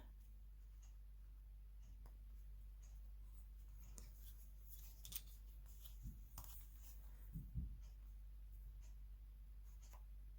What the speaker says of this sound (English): we're going to draw a line here and here